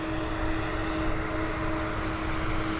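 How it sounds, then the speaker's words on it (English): An Airbus A320 arriving at Dublin Airport from Nice, a steady, fairly loud engine roar with a sustained whine tone held throughout, no speech over it. "Our next arrival is an Airbus A320 coming in from Nice"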